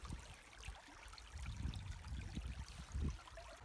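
Creek water flows in a faint, continuous low trickle and gurgle outdoors, with soft uneven surges and no voices.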